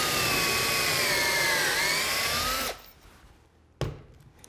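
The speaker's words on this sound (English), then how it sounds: "we're just going to plunge that bit into this material on the first hole and now in the second hole" A power drill runs at a steady high whine while plunging a bit into wood to bore tapered holes for end-grain joinery, then stops abruptly, followed by a brief second burst of the drill.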